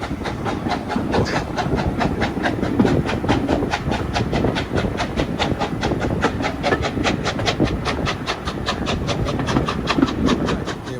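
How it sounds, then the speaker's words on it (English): A small 85 tank steam locomotive, with a bearer behind, rolls past at a heritage railway steam gala, its wheels and wagons keeping up a steady, close clickety-clack rhythm that stays loud throughout. "The passing train is approaching. This is that little 85 tank engine and the bearer in that order."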